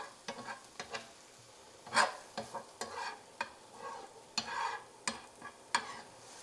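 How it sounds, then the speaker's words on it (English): Onions sautéing in a pan, a quiet sizzle under repeated sharp scrapes and taps of a utensil stirring them, irregular and close. "My onions have sautéed."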